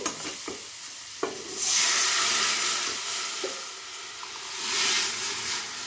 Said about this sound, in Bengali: এখন আমি সেদ্ধ করা ডালটা দিয়ে দেবো